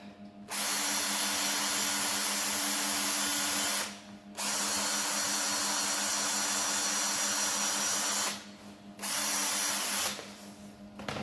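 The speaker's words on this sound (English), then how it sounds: "let's get a wee wire brush" A small wire brush on a power tool cleans zinc-coated metal on a fuel tank strap for a VW Golf before welding, whirring steadily and loudly in three long runs broken by brief pauses.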